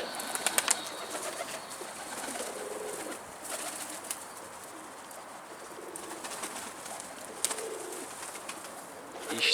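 Pigeons arrive at a rooftop coop, with faint cooing and a few quick bursts of wing flapping over a soft outdoor hiss, distant and quiet.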